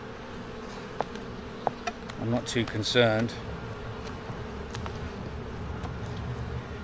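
Honey bees from an opened hive drone in a soft, continuous buzz during an inspection of nectar-filled frames, while someone speaks briefly nearby and a few clicks and handling noises break through.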